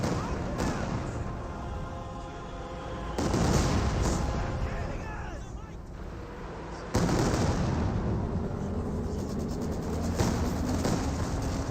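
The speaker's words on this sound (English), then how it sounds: "Here comes a Katusha barrage." Katyusha rocket barrage in Company of Heroes 2, a wartime strategy game: sustained rumbling volleys of rocket impacts and explosions with scattered gunfire, building in bursts over a battle din while a voice comments.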